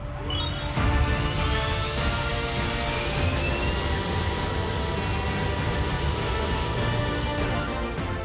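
A KUH-1 Surion helicopter runs its engines on the ground before flight. The turbine drone is loud and steady, with a high whine and a thin tone that rises as the engines spool up.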